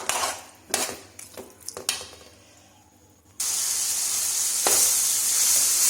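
Marinated chicken sizzles in a pan on a low flame, a steady loud frying hiss that starts abruptly after a few clinks of a utensil against the pan.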